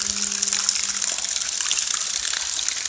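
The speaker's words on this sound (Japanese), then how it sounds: "この水の音ですね。" Water gushing and flowing steadily across a road surface at night, a loud continuous broadband rush close by with a brief low hum early on.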